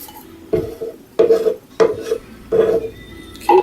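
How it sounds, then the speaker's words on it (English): Utensil scraping caramelized sugar out of a metal pan, five distinct scraping strokes at a steady pace, close and fairly loud with no talk. "and scrape up all that sugar"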